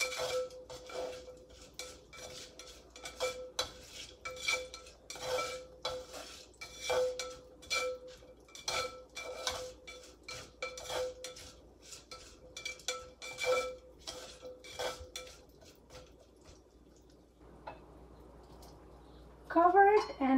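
Cut sweet potatoes are stirred into a pan for sabudana khichadi, a utensil repeatedly scraping and clinking against the cookware in quick, uneven strokes, with someone talking faintly over the clatter.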